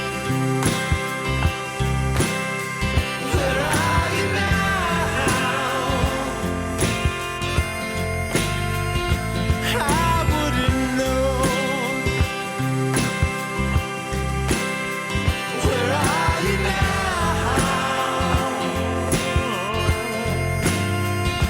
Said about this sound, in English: you could almost miss the fact that it's a harmonica